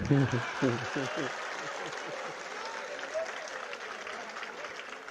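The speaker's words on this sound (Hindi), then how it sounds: "महाराज जी आपने ताली क्यों बजवाई?" Applause from an assembly at a Jain religious discourse, briefly mixed with a voice at the start, then fading into a soft, steady patter of clapping.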